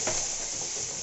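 Onions and whole spices fry in ghee in a kadai with a bright, steady sizzle and hiss that holds close and even for a brief moment.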